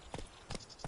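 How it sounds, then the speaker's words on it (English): Horse hooves in a video game, heard as three separate clusters of soft thudding footfalls spaced across a second, fairly close and alone with no talk. "Even a horse drops if you ride it at a constant gallop."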